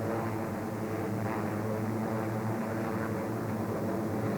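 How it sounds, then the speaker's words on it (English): B-29 bomber aircraft roaring as it takes off for a strike from Guam in archive war footage, a dense, steady propeller-engine drone throughout, moderately loud with no voices. "From Guam, the B-29s took off for Okinawa"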